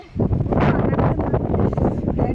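Strong wind roars against the microphone on a hilltop at Narasimukku hill in Attappadi, a loud, steady buffeting rush filling the whole stretch with no pauses.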